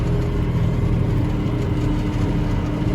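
Old John Deere tractor cultivating red dirt, a continuous loud low engine drone with steady rumbling harmonics and no breaks.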